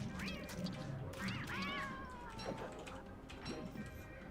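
Catcoon creatures from the game Don't Starve, WX-78 playthrough, meowing and yowling in several rising, warbling calls over a steady background music bed, fairly close and clear.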